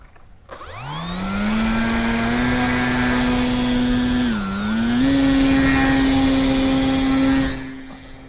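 Fun Cub 1100mm RC plane with flaps deployed flies after a hand launch, its electric motor a steady loud whine that rises at once, dips briefly mid-flight, then climbs in pitch before fading at the end.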